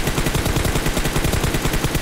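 Rapid automatic gunfire from a shooting video game, a dense, loud, evenly spaced string of shots filling the whole moment with no voices.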